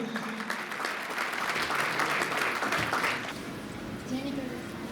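Sustained applause from a seated audience honoring martyrs rises into a thick wave of clapping that holds steady, then thins out toward the end.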